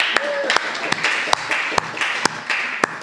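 A handful of scattered claps ring out from a small audience at a Bhakti Retreat 2024 public-speaking session, sharp and irregular rather than a sustained ovation, with a faint voice in the background.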